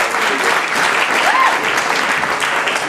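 An audience applauding a stage act, dense steady clapping close and loud throughout, a brief faint whistle in the middle.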